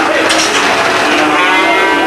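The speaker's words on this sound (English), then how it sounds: "You hear the cows, they're bellowing and stuff when they go in." Loud, drawn-out bellowing of cattle, several cows lowing together continuously and close by as they are prodded off a trailer.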